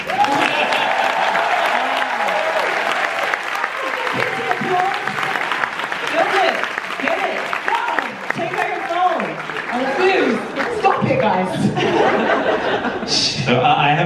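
Sustained applause from a Q&A audience, a dense wash of clapping mixed with chuckles and laughter, while voices talk over it.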